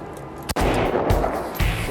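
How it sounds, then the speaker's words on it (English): A Kalashnikov rifle fires in open hills: one sharp, loud crack followed by a sustained roaring report and echo, with a couple of further jolts close behind. "It's a Kalashnikov, and I'm kind of nervous."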